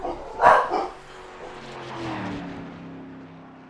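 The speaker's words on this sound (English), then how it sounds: "About once an evening, you guys get to hear my dogs." Dogs barking at home, a short burst of loud barks near the start, then a lower steady hum with faint background noise for the rest.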